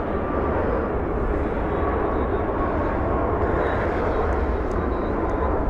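A Southwest airliner departs at LAX, its jet engines a loud, steady, broadband roar that holds constant throughout without a break.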